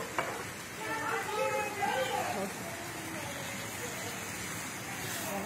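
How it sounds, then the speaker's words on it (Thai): Chili and holy basil stir-fry in a pan with a moderate sizzle under a voice speaking throughout, with faint scraping of the spatula. "เราจะผัดพริกกะเพราให้เข้ากันนะคะ"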